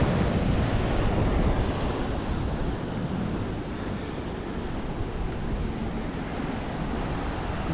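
Strong sea surf rolls onto a beach at Protaras, Cyprus, a steady loud wash of breaking waves with wind buffeting the microphone throughout.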